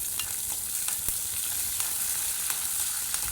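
Peanuts and curry leaves fry in oil, producing a steady hissing sizzle punctuated by sharp crackles and pops at irregular intervals, near and moderately loud, with no speech.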